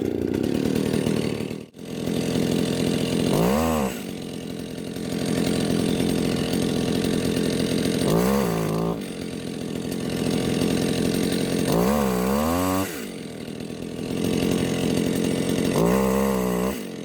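A small chainsaw, one of several compared in a test such as an Echo 360 EVL, Dolmar PS 410, Stihl MS 181 or Makita, runs loud and steady while cutting wood, its pitch rising and falling in several revving surges between cuts, with no voices.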